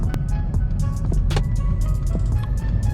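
A Mercedes A-Class drives along a country road, with a steady close rumble of engine and tyre noise and some faint knocks and rattles from inside the cabin.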